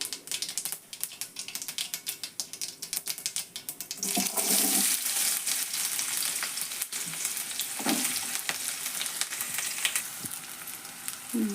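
Chopped onion hits hot oil for a tempering in a North Karnataka-style avarekalu palya, kicking a steady background sizzle into a louder, denser crackle partway through, with a few spoon clinks near the pan.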